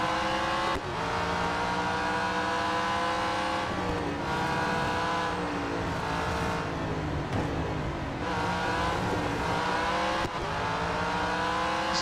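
A race car engine in a racing video game drones steadily for the whole stretch, its pitch rising and dropping through gear shifts, loud and continuous, with no talk over it.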